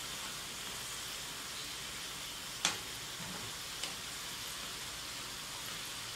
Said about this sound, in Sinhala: අපි අල රෝල් ටික මේ විදිහට හරව හරව බෙද ගන්න ඕනේ